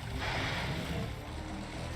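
Deep water in the Monster Hunter World video game, a steady washing rush of sloshing surf that swells slightly at the start, then holds even and moderately loud with no talking.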